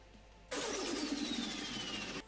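A car engine in the Roblox video game kicks in abruptly, giving a loud steady synthetic whine and roar for about two seconds before cutting off sharply.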